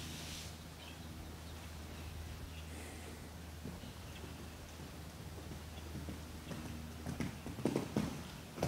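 Young horse's hooves clip-clopping at a jumping clinic, faint steady thuds under a low background hum, growing a little louder and more distinct toward the end.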